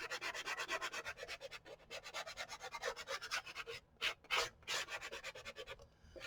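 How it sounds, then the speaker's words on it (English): Rapid back-and-forth sanding strokes rasp against a paper-covered file folder cover close up, in a quick, even rhythm broken by a couple of short pauses. "So sanding this down to the file folder that's underneath"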